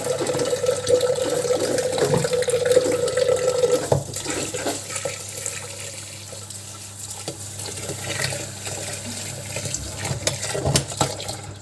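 Water runs steadily from a tap into a bowl with washing-up liquid, a continuous splashing rush with small drips and clinks, close by and without talk.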